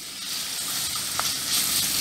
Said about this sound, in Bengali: এই পেঁয়াজ আদা রসুনগুলো একটু ভেজে নিচ্ছি, যাতে এর কাঁচা গন্ধটা একটু চলে যায়।